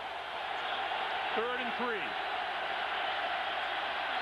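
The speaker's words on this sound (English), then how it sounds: "The Buffalo crowd again gets into it." Buffalo Bills stadium crowd in a 1998 NFL game against Jacksonville, a sustained broad roar of massed voices under a brief spoken line from a nearby announcer.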